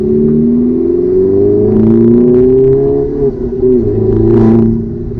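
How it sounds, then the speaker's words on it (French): A 2007 Opel Corsa OPC with a 1.6-litre four-cylinder turbo engine and full exhaust system drones loudly from inside the cabin, rising and falling in revs, with brief airy hissing bursts from the dump valve. "C'est vrai qu'on entend un petit peu la dump valve ici"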